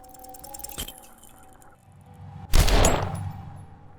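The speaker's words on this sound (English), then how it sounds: "The shot rings and you stumble." A gunshot striking a character's shoulder in the video game Disco Elysium, a loud sharp blast with a ringing, glassy tail after a brief metallic clink, standing alone over a quiet ambient tone.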